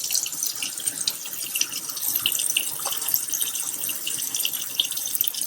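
Calamari pieces are rinsed under a running kitchen tap, giving a steady, close hiss of flowing water with light splashes throughout.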